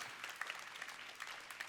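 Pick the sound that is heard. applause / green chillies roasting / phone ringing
applause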